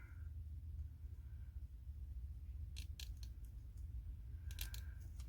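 Scissors snipping through card stock for a handmade Thanksgiving card, heard as short clustered crisp cuts over a steady low room rumble, with a second quick burst of snips near the end.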